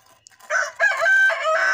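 A rooster crows loudly and close by in a backyard chicken coop, one full cock-a-doodle-doo with no one speaking.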